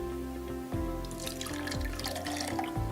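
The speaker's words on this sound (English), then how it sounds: "Take it out of the cleaning solution and give it a rinse with some fresh clean tap water." Fresh tap water runs steadily from a faucet over a Bluelab pH pen probe, a continuous splashing stream with dripping and small shifts as the probe moves under it, close and alone with no talk.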